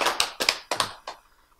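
A short burst of audience clapping during a Korean lecture, four or five distinct claps in quick succession that fade to quiet, with no talk over them.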